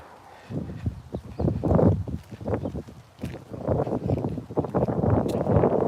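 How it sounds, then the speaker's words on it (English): Wind blowing outdoors on a walking route, gusting roughly against the microphone in uneven loud surges, with faint footsteps beneath. "The wind is blowing."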